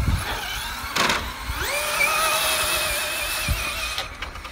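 A Traxxas Slash 2WD RC drag car wearing a 1969 Chevy Nova SS body whines as its electric motor spins up, a rising high-pitched tone that holds steady over a few seconds with scuffs and bumps around it.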